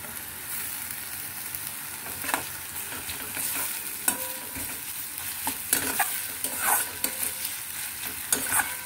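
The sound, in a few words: onions and spices being stirred and fried in a pan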